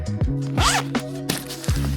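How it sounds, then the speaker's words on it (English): Zipper pocket on an AER carry-on bag opened and closed, several quick close zips in a row with short pauses between pulls. "offering a zipper pocket here, in addition to a zipper pocket here, which is fairly deep"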